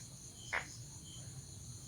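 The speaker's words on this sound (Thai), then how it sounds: "คือเสียงอีสัง" An insect chirps at night in a faint, steady, continuous drone, with one brief click partway through and no voices.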